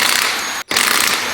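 A power tool works on the rear right brake caliper of a McLaren 720S, giving a loud, harsh mechanical roar in two close bursts split by a brief silent gap.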